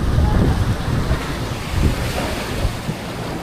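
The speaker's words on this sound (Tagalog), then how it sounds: "Laki-laki ng alon ng amigo." Big Pacific Ocean waves surge and crash in a constant roar, with heavy wind buffeting the microphone.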